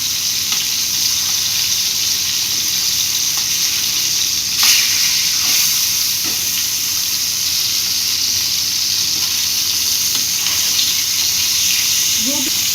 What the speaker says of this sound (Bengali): এই মাছটাকে প্রায় 5 মিনিটের মতো ভাজতে হবে